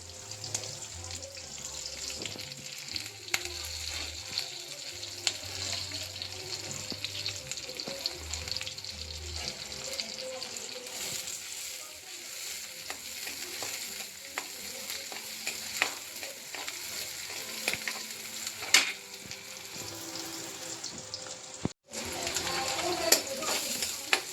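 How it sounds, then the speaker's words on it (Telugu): Chopped green chillies and onions frying in oil for a bottle gourd (sorakaya) curry, a steady sizzle with spoon stirring throughout, close and moderately loud, with a brief drop near the end and background music. "కట్ చేసుకున్న పచ్చిమిర్చి ఉల్లిపాయలు వేయాలి వేసి దూరగా వేయించుకోవాలి"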